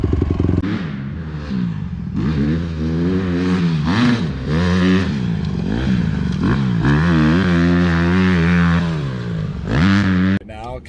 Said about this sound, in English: Now, Kat and I are driving down the street to Jason's place to pick up his skid steer